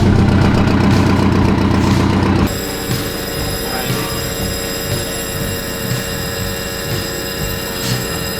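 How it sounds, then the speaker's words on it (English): A fire truck's engine idles loudly and roughly, with a heavy, dense rumble for the first couple of seconds that then settles into a steadier, lower running drone with faint background voices. "the air pressure's never gonna build up running an idle like that"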